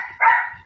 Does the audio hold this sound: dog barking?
yes